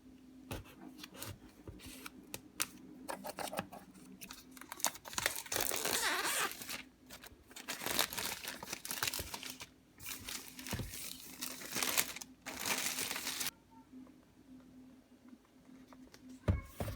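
Plastic wrap is peeled and pulled off a boxed gimbal in close, quiet crinkling and crackling bursts with short tearing sounds, over a faint steady hum and with no talking.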